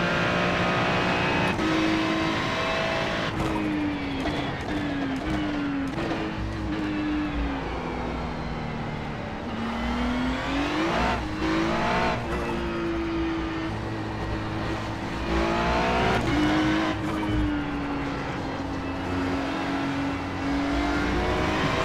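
Ferrari Challenge race car engine at Okayama in iRacing, droning loud and continuous as it revs up and down through the gears across a long stretch of track, no talk.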